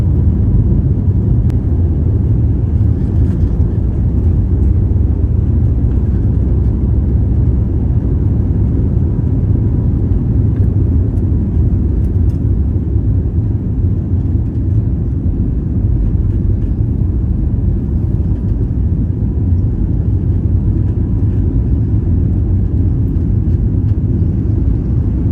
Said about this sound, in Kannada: ಇಂಜಿನ್ ಎಷ್ಟು ಸೌಂಡ್ ಪ್ರೊಡ್ಯೂಸ್ ಮಾಡುತ್ತೆ ನೀವು ನೋಡಿ